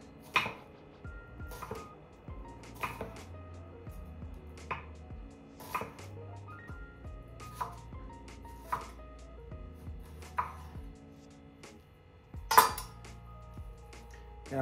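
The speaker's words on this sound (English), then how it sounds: "So right now I'm just going to thinly slice my onion, thinly sliced." A kitchen knife thinly slicing an onion on a cutting board while making a burger, with sharp, steady chopping taps repeating at an even pace, close and clear against a quiet room.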